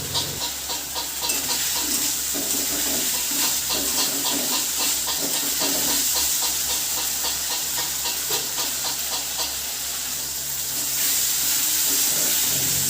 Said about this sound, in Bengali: লো ফ্লেমে দিয়ে মশলাটা কষিয়ে নেব যতক্ষণ না মশলা থেকে তেল ছাড়ছে